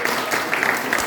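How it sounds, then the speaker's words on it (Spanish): A church congregation claps together in a brief burst of applause, a fairly loud, dense patter of many hands. "le damos un aplauso"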